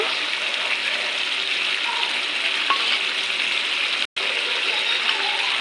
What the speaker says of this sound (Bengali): আমি এবার অল্প একটু দই দিয়ে দেবো